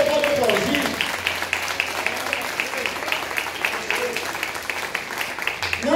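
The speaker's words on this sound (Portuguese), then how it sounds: "se for para o Senhor, pode aplaudir" A church congregation claps during a sermon, a fast rhythmic patter of many hands at moderate distance running throughout, with a voice and a low sustained tone beneath.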